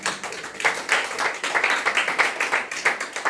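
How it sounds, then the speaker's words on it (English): A literacy townhall audience at an independent bookstore applauds its panel, a steady patter of many hands clapping at moderate loudness, fairly close and alone. "Give our panel a round of applause"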